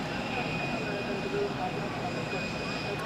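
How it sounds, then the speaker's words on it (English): United Airlines Boeing 767 departing Zurich Airport, a continuous distant jet engine roar with a high whine running steadily throughout, and no break in the sound. "We always like to see a United or a 767 in general departing."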